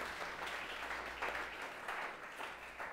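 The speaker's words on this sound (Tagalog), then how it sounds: "Ang mga nakakaunawa ay pumalakpak ng the best kay Lord." A church congregation applauding during a sermon, a dense wash of clapping that holds steady for about three seconds at a moderate distance, with no voices over it.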